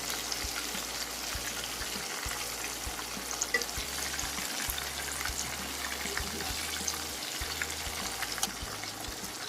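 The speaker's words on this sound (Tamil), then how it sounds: "இப்போ வந்து prawn பாத்தீங்கன்னா நல்லா ஃப்ரை ஆயிடுச்சு" Prawns fry in hot oil with a steady, even sizzle and crackle that runs throughout, close and fairly quiet, with no voices over it.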